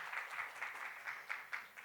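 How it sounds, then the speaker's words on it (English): An audience at a breast cancer awareness campaign press meet claps for a brief, fairly faint stretch of steady, dense applause with no one talking. "I think we can clap aloud"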